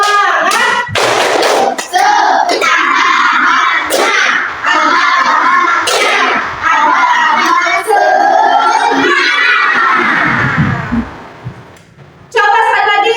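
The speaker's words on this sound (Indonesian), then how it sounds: "Coba biar lebih semangat, kita apa? Untuk semangat dulu. Coba tepuk semangat." A classroom of children performs the rhythmic 'tepuk semangat' clap chant, sharp patterned claps close by mixed with loud shouted chanting voices, fading to quiet murmuring before a final burst of clapping.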